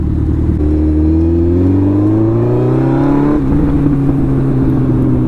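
A Suzuki Hayabusa motorcycle engine revs loudly and close, its pitch climbing steadily, then dropping and settling into a strong drone; no distinct backfire pops stand out.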